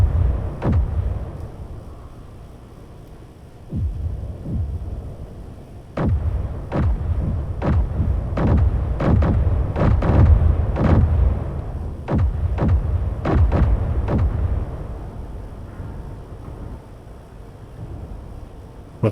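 Missile launches and explosions in the video game Space Engineers during a warship battle: a dense, irregular volley of sharp, loud blasts and thuds over a constant low rumbling drone, with no talking.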